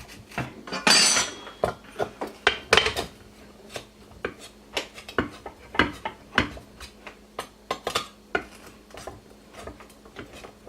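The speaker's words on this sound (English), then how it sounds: "so that your spatula goes all the way to the bottom of your pan" A spatula pressed hard across the bottom of a pan while making crystal cut candies, giving a string of sharp scraping clanks and clinks in an irregular rhythm, close and fairly loud with no talking.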